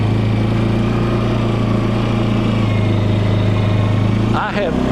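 An ATV engine drones steadily under constant throttle as it drives in a circle, a close, even mid-pitched hum with no gear changes and a brief dip near the end.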